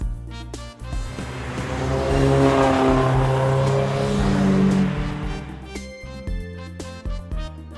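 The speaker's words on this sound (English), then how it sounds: "SUV." An SUV drives and accelerates, its engine swelling to a loud rising drone over a few seconds, set against background music.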